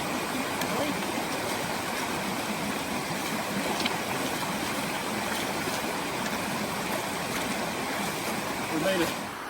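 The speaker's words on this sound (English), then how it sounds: "Another creek crossing here." Creek water rushes steadily throughout a creek crossing, a constant broad wash of flowing water close by with no pauses.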